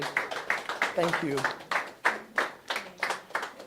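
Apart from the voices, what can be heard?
audience applause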